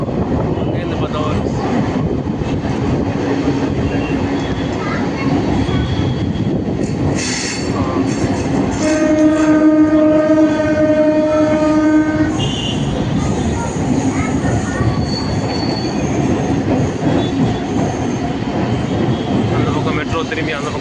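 A Chennai MRTS train runs past close by with a steady rail roar, then a sustained multi-tone horn blast lasts a few seconds midway. A voice talks intermittently over the train noise.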